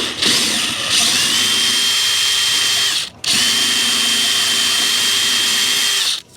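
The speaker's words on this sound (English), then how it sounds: "first I'm going to make sure it's nice and clean with this little brass wire wheel" A drill spins a small brass wire wheel to clean a ball joint on a third-generation Mazda 3, two long loud whining runs separated by a brief pause, close up with no talk.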